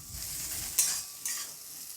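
Turmeric powder and chopped vegetables being stirred in a frying pan, a soft continuous sizzle broken by two brief scraping stirs, close and alone with no talk.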